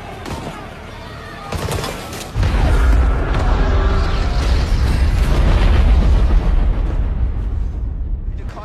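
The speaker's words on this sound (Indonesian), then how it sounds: "Terjadi baku tembak hingga menyebabkan satu pesawat meledak" An airplane blows up amid a gunfight in the disaster film Greenland, with sharp gunshot cracks leading into a heavy, booming explosion that rolls on as a loud, sustained rumble before slowly fading.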